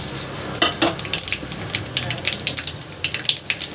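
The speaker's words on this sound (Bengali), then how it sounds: "তেল গরম হয়ে গেছে দিয়ে দেব ফোড়ন কালো জিরে শুকনো লঙ্কা আর তেজপাতা" Black cumin, dried chilli and bay leaf sizzling in hot oil in a kitchen, with a close crackling sputter in quick, irregular pops and bursts.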